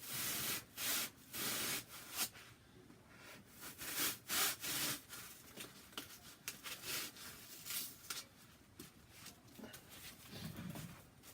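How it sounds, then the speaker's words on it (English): A serrated blade trims excess material from a baseball glove form, making repeated rasping, sawing strokes in a steady back-and-forth rhythm, close and fairly loud, with no talking. "I'll literally just follow the outline of the glove. Be careful not to hit the glove. And I'm just going to trim off the excess."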